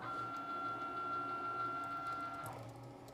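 A Cricut cutting machine runs a sheet of vinyl back through for a second cut, giving a steady, quiet mechanical whir with a high motor whine that shifts pitch near the end.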